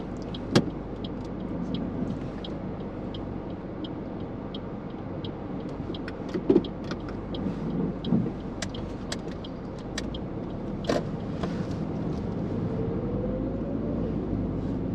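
A car pulling away and driving along a road during a New Zealand restricted licence mock driving test, a steady low engine and road rumble inside the cabin with occasional clicks and knocks, no talk.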